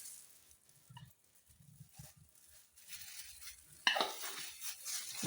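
Red onions, spring onions and turmeric stirred in a hot pan, with scattered scraping and clinks early on, then a louder, steady sizzle and stirring after a sharp utensil knock near the end.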